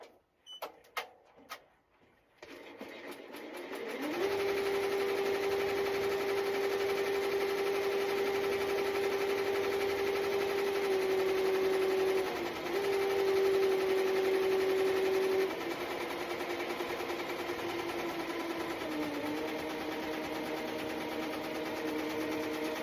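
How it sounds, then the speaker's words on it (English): A BAI Vision V22 15-spool head embroidery machine stitching robes, running as a steady close mechanical whir with a sustained tone, briefly dipping midway and shifting slightly near the end, no talking. "this is a BAI Vision V22 15 spool head"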